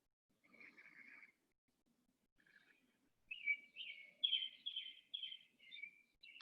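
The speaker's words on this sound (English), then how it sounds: "We've got the robins singing in stereo" Robins sing outdoors, a run of clear warbling phrases heard at a moderate distance in an otherwise quiet space, rising in level toward the end with no talking.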